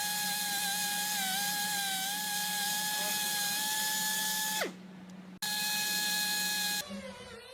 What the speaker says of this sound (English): The Kreis Mini-Cut 100 is an internal tube cutter built for such cases.